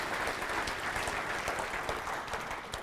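Lecture audience applauds, a steady even patter of many hands clapping at moderate level throughout the short stretch, with no talk over it.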